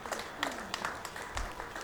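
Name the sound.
audience applause at pool tournament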